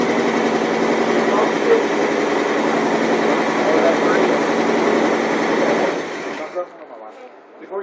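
A 1969 Oldsmobile Cutlass engine runs at a steady, buzzing idle for several seconds, then cuts off abruptly, leaving brief faint clatter and voices.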